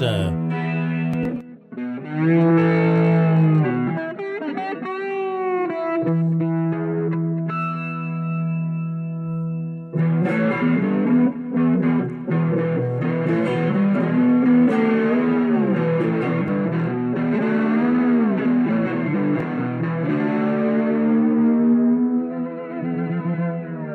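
An electric guitar made from a canoe paddle plays a distorted, effects-heavy passage with sustained chords and sliding notes, briefly pausing before continuing with ringing, echoing tones.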